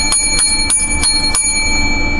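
A bright bell rings five times in a steady, evenly spaced rhythm, loud and close, over a constant background hum.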